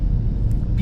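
Maruti Suzuki Brezza diesel on the road after a major service: a brief, low, continuous engine rumble from a moving car, with faint higher noise near the end.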